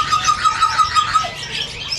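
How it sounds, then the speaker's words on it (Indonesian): Harsh, loud squawking calls from a caged bird at a busy bird market repeat in a quick, uneven series of shrill bursts close by, then tail off into a fainter call. "Ih, bagus sekali suara burung yang itu."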